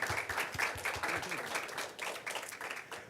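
A gala audience welcoming a panel of alumni claps steadily, a dense close applause of many hands lasting a few seconds.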